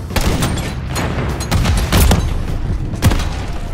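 Grenade blasts and gunfire in a first-person shooter game: loud, rapid booms and cracks in dense bursts, with heavier thumps near the middle and a final sharp burst, no voices.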